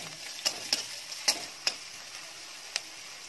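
Chopped chillies fry in a pan for chilli paneer, giving a soft steady sizzle broken by a few sharp clicks of a utensil striking the pan as they are stirred.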